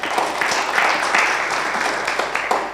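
An audience at a memorial lecture claps steadily and evenly from start to finish, a dense, mid-loud wash of applause from a hall full of people.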